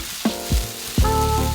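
Diced chives and cut bean thread noodles hitting hot oil in a pan, with sharp sizzling bursts that settle into a steady, close frying hiss.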